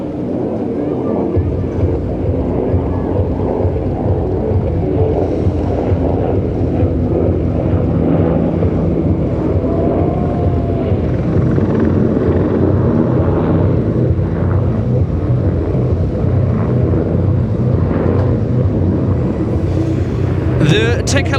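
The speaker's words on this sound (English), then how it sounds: "Next up will be the German Army Eurocopter Tiger, the Kampfhubschrauber Tiger." Loud, continuous rotor and engine roar of a German Army Eurocopter Tiger attack helicopter flying at an air show, steady and dense with wind buffeting, while a voice talks faintly underneath.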